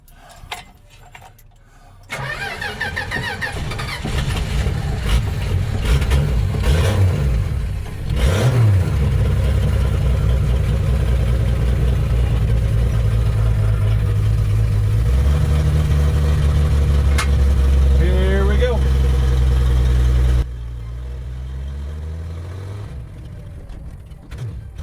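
An antique Dodge Lancer engine cranks, catches and starts, then revs hard in repeated surges with an on-off throttle before settling to a steady idle, loud and close with no talk.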